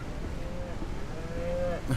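A cow moos once, faint and drawn out, from livestock on a farm in the video game Ranch Simulator, over a low steady background hum.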